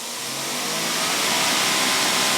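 A Greenworks 80V battery pressure washer runs in turbo mode, a loud, steady, broadband roar of motor and spraying water that holds constant before cutting off abruptly.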